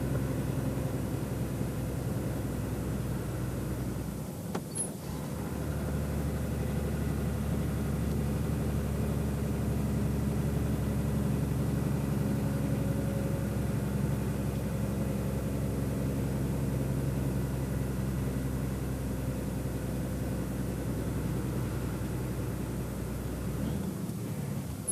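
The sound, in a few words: Scania truck engine pulling at low revs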